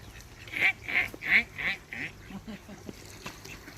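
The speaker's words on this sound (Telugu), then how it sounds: "బాతులు ఉన్నాయి." Ducks at a small pond quack in a quick run of four or five loud, nasal calls close by. A few fainter calls follow, with light background noise.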